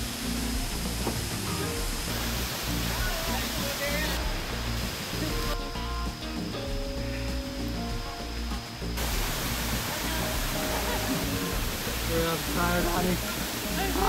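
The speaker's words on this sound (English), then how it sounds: "Big ass waterfall, you probably can't hear me." A big waterfall on a mountain hike near Chiang Mai, Thailand, pours in a dense, steady roar that fills the whole clip, close and loud, with indistinct voices faintly underneath.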